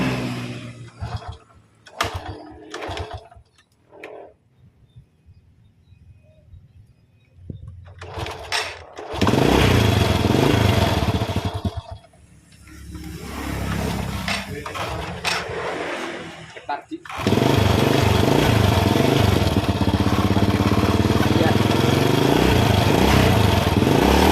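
A motorcycle fitted with a newly set-up carburetor starts with scattered clicks and sputters, then the engine catches and idles loudly with a steady buzzing drone that rises and falls slightly, while someone talks at times.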